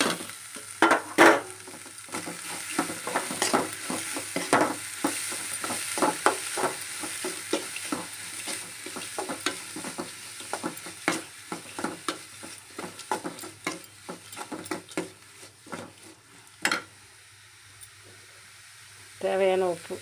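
Chopped onions frying in a pan, stirred with a utensil, giving a continuous sizzle with a steady run of close scraping strokes. A short burst of speech comes near the end.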